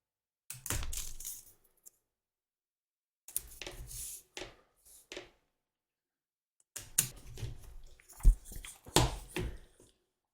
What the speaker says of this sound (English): And then we're going to tape it in place.